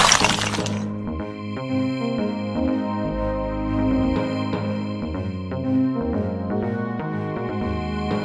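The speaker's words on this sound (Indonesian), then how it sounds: "Gerbangnya hancur." A motorbike with faulty, nearly failed brakes smashes through a village gate, a loud shattering crash at the start that falls quickly into a steady musical tone with no talk.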